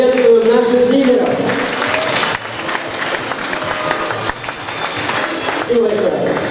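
A crowd at a school's last-bell graduation ceremony applauds its student leaders, a steady wash of clapping throughout with a voice speaking over it at the start and end.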